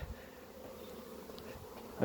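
Honey bees at a hive give a steady, continuous buzzing drone at close range, even in level throughout, with a brief knock near the end.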